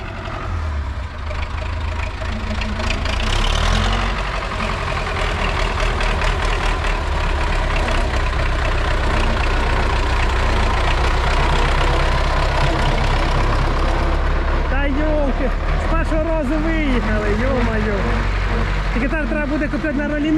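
An MTZ tractor fitted with a T-40 front drive axle idles with a steady, heavy low rumble. A voice talks over the engine noise.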